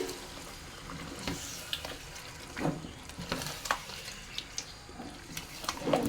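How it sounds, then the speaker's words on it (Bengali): About a kilogram of beef pieces stirred in a pot for a beef and potato curry, with a soft wet sizzle broken by irregular spoon clanks and scrapes against the pot. "মাংসগুলো দিয়ে দিলাম এক কেজি পরিমাণ মাংস এখন ভালোভাবে নেড়ে চেড়ে"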